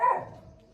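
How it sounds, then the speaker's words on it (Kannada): A single dog gives one short bark, close by and fairly loud, with no talking. "ನಾಯಿ ಬರೋದು ಗೈಸ್ ಇಗ್ನೋರ್ ದ್ಯಾಟ್"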